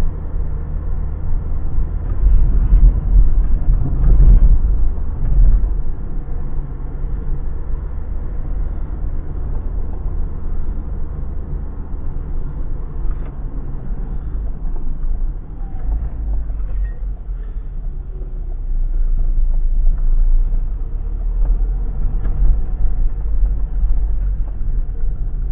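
A Citroën ZX car drives along, with a steady deep engine and road drone inside the cabin that swells as it accelerates, loud and continuous with no voices.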